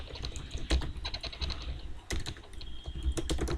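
Rapid typing on a computer keyboard while working in a Jupyter notebook: a dense, steady patter of close keystroke clicks with a few sharper taps, and no voices.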